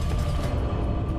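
Cable car machinery in the World War I video game Valiant Hearts, a steady, loud mechanical grinding and creaking with a dense low rumble that runs unbroken through the short moment.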